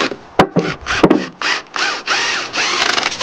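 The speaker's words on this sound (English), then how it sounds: "from behind we'll also drill a toenail in" A power drill drives a toenail screw into a wooden rail, several short close whirring bursts that stop and start in quick succession.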